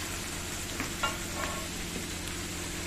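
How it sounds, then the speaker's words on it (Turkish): Meat sautéing with onions and peppers on a sac griddle for sac kavurma, a constant close sizzle with a few light scrapes and clinks of a utensil, no voices. "soğan ve biberle kavrulan etimize"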